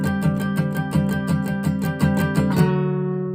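Acoustic guitar notes picked in an octave shape in a quick, even repeating pattern, bright and ringing, then a final chord left to fade out.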